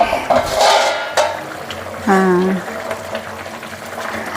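A metal lid lifted off a pot of dried fish curry with brinjal and cowpeas, giving a short clatter and scrape of cookware near the mic, with a brief ringing metallic tone.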